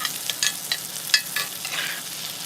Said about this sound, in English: when that butter is nice and foaming and sizzling like so